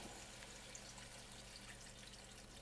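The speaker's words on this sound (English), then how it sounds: "now we're gonna pour in our stock" Stock pours steadily into a pot of roasted butternut squash pieces, a continuous close liquid splash and gurgle at low volume that lasts throughout, with no voices.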